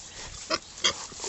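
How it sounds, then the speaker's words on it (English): Pigs on a muddy farm, curious animals close by, give two short grunting squeals over a low murmur of background noise. "The pigs are so curious that they just keep following me around."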